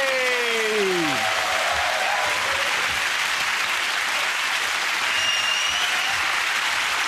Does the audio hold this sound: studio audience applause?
yes